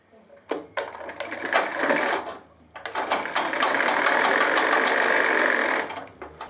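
A tailor's sewing machine runs in close bursts while stitching the body of a pair of gents' trousers, a short run, a pause, then a longer steady whirring stretch before it stops.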